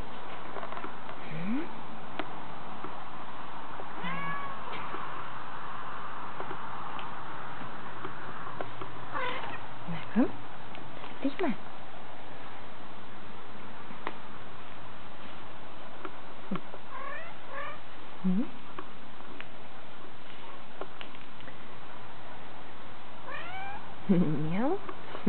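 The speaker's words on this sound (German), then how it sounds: "Eine hübsche Katze von ca. 4 Kilo." A domestic cat of about four kilograms meows several times indoors, with short rising calls spread across the span, close and moderately loud over a quiet background.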